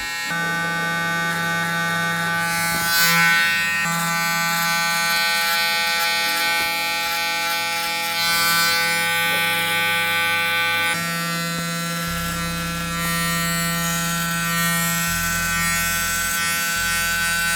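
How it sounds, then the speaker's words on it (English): Electric hair trimmer buzzing steadily and loudly close by for the whole stretch during a haircut, a continuous motor hum whose pitch shifts slightly as it moves through hair, with no talking. "we're just gonna now clean all this with our hard trimmer, which is our sharper trimmer"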